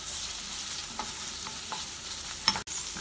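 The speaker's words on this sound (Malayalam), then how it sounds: "ഇതിനി ഇളക്കി വഴറ്റാം." Onion, ginger, garlic and green chilli being stirred and sautéed in a pan, with soft scraping strokes and a faint continuous sizzle close by, no talking.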